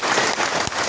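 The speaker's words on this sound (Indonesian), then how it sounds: "Bapak Donald Ardi dan Bapak Rafdi, berikan tepuk tangan kepada beliau." Audience applause at the opening of a traditional proverb festival in Padang, a short steady burst of clapping from a crowd, fairly faint and diffuse.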